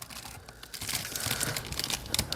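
Close, crisp crinkling and rustling of a plastic bag of model kit parts from a 1/72 scale MiG-21MF kit being handled, continuous and fairly soft.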